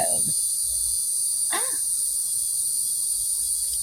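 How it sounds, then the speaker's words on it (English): A constant high-pitched insect drone of cicadas fills the background, steady and fairly loud, with a brief dog-like yelp cutting in midway. "cicada is chirping that we hear"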